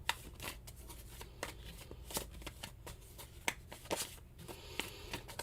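Tarot cards are shuffled close up in steady riffling and slapping strokes, a continuous papery flutter punctuated by crisp snaps, with no talking.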